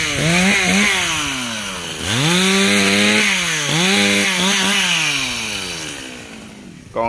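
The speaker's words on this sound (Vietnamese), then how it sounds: "Còn anh đó anh cưa mấy cái nhánh nhỏ nhỏ đang kéo vô nha các bạn." Husqvarna-style G4200 chainsaw cutting small golden wattle branches outdoors near rice fields, its engine revving up and down in steady loud waves as the blade bites wood, with no voices.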